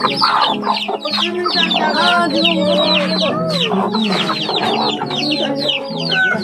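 Native chickens clucking busily close by, with overlapping clucks and calls from several birds, loud and continuous, and a brief human voice under them.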